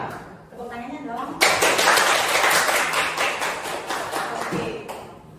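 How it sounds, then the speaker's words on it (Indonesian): Indonesian teachers at a positive-culture training session clap together, a dense burst of close, lively applause that swells suddenly and keeps going, with voices faintly mixed in. "Tepuk tangannya dong"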